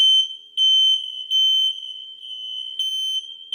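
A smoke alarm sounds during a rental property inspection: a steady, piercing high-pitched electronic tone that swells and dips in loudness in short pulses, close and alone with no talking.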